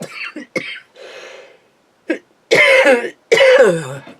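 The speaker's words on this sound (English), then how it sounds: "You have to excuse me because I've got a cough again." A person with a recurring cough at a card-crafting table lets out a few short, close coughs, then pauses before two longer, harsher rough coughing fits.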